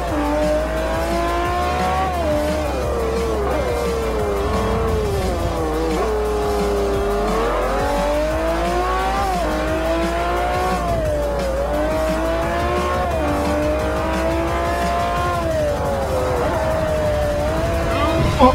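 A Bugatti Veyron in Forza Motorsport 4 laps the Nürburgring, its engine droning steadily as the pitch climbs and falls through shifts and corners, with light tire squeal mixed in and no speech.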